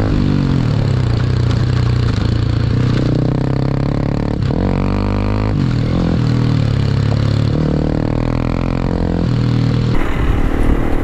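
A Honda CRF300 Rally motorcycle engine runs steadily and loudly close up while riding, with rising and falling tones as it pulls through the revs and shifts into a higher gear.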